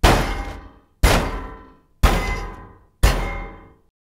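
Tank collision impacts from the Unity game Tanks!, with separate collision sounds for concrete, rocks, plants and other tanks: four heavy clanging hits, evenly spaced about a second apart, each fading fully to silence before the next.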